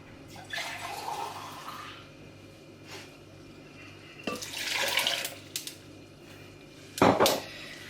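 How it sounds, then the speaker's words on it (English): Water from a tap runs into a glass for a berry smoothie, a steady splashing stream that swells in several bursts, with a louder gush near the end. "Now I'm going to have half a glass of water."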